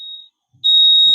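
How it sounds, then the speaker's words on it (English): A fire alarm sounds loud and steady as a piercing electronic tone, cutting out briefly before blaring again continuously at close range. "Just a second, fire alarm."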